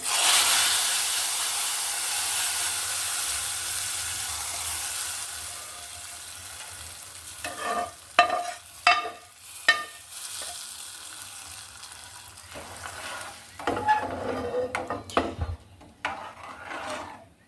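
A hot tempering of whole cumin hits a pot of lentil dal with a loud, hissing sizzle that slowly fades, followed by scraping and stirring sounds close by.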